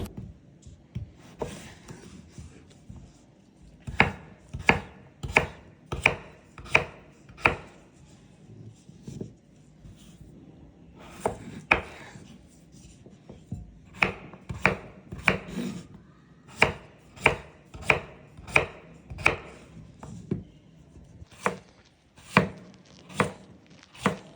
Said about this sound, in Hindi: अब इसी तरह सारे आलूओं को क्यूब्स की शक्ल में काट लें।